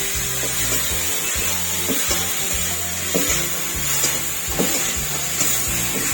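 Masala paste is sautéed for moong dal with a rohu fish head, a steady loud sizzle of frying in oil with soft rhythmic scraping strokes of a spatula underneath.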